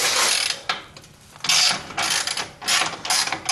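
A ratchet wrench tightens an exhaust bolt on a 2015 Jeep Wrangler, giving several quick bursts of close, crisp clicking with short pauses between strokes.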